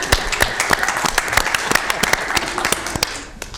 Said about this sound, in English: So give y'all some applause.